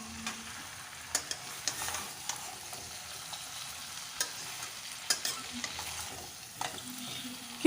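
Vegetables for a pumpkin curry are turned over in hot oil in a cramped pan, steady frying sizzle punctuated by irregular scraping clicks of a spoon, close up, with no talking.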